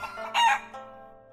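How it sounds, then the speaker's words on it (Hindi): A single short, loud rooster crow bursts out after the bird is pulled from a magician's hat at a show, its cry rising and then trailing off quickly. "हैट में से निकला एक मुर्गा।"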